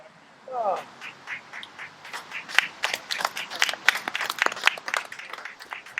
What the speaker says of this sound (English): I think that applause was for Brian Zindel winning first flight.